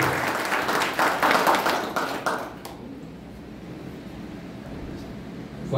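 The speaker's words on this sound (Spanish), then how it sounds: "Vamos a dar un aplauso de nuevo" Applause from a church congregation honoring a pastor, a dense wash of clapping for under three seconds that quickly thins and fades into quiet room tone.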